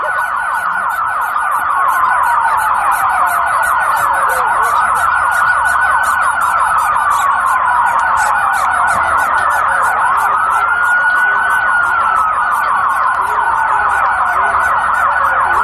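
Emergency vehicle sirens blaring at a street protest, loud and piercing, with repeated rising and falling wails overlapping continuously and no talk.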